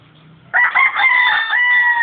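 A gamefowl rooster of an Albany-Sweater cross gives a single loud, close crow that starts abruptly, holds a strained, drawn-out tone and ends about a second and a half later.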